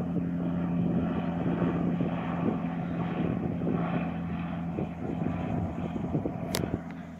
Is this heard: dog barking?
no